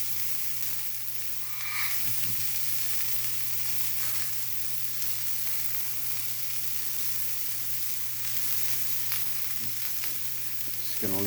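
Vegetable pizza toppings frying on high heat in a pan, a steady loud sizzle and crackle throughout with a few faint stirring scrapes.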